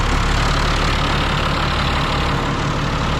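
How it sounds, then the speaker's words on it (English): A tractor engine runs at a steady idle, a loud, continuous low rumble close by with no talk over it. "We'll turn on the ignition. And we'll turn her over and see how she goes."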